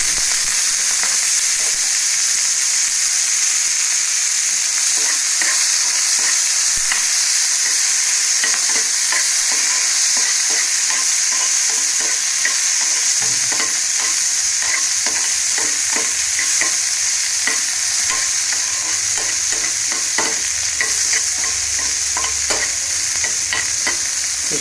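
Ingredients dropped into hot ghee and stirred in a pan: loud, continuous crackling sizzle with dense spatter and steady stirring clatter throughout, close up and with no one speaking.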